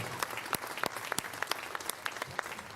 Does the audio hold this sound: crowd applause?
yes